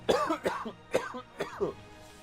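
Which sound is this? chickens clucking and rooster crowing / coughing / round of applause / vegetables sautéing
coughing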